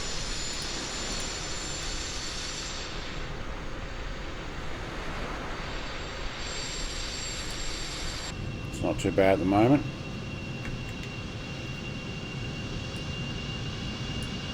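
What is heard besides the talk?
A-6 Intruder jet engine 2 starting, Microsoft Flight Simulator video game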